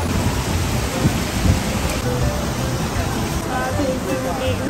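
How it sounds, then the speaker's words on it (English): Heavy rain pours steadily and loudly at Universal Studios, a dense continuous hiss that is close and unbroken, with a faint voice mixed in. "It's raining harder now."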